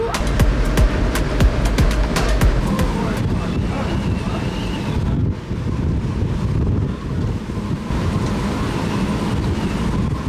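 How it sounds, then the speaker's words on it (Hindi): Strong wind blows steadily across the deck of a ship at sea near an island, a loud continuous rushing with microphone buffeting and some higher whistling tones, layered over engine and water noise with no talk. "मस्त हवा चल रही ऊपर जैसे मूवीज में आवाज़ आती है ना बिल्कुल विसल बज रही होती है हवा की"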